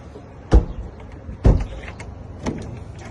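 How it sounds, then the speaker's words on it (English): A Toyota car door lock is being reinstalled by a locksmith, heard as three separate sharp knocks and clunks spaced about a second apart, close and fairly loud, with faint handling noise between them. "and I'll put the door lock back in"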